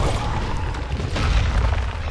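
Goliath, the monster in Evolve, hurling a rock. A heavy rumbling boom and crash fill the whole moment, loud and close, with no talking.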